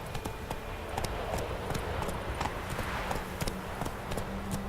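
Hooves clip-clop in a quick, steady gallop as the horse Roach runs in the video game The Witcher 3, a continuous rhythmic pounding with no talk over it.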